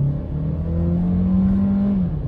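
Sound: Seat Leon FR engine revving in sport mode

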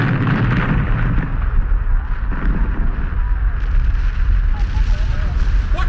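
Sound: explosion of a gunship hit in a Doctor Who trailer

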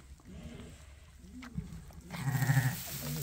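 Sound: lambs bleating on a sheep farm

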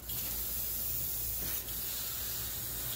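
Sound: spraying lacquer paint on a scale model

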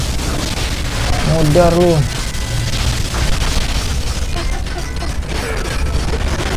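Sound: explosions in the video game God of War

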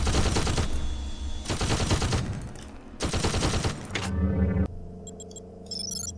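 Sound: turret firing in System Shock 2 video game

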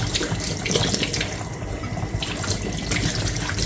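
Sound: washing mushrooms under running tap water

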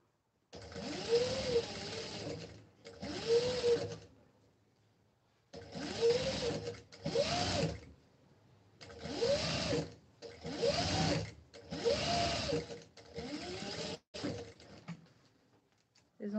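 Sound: sewing machine stitching a fabric face mask

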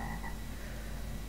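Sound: frog croaking as a player turned into a frog, Star Stable video game

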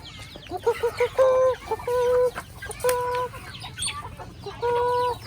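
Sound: chickens clucking as they are lured to be caught

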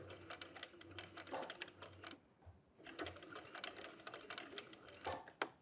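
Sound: sewing machine stitching fabric pieces

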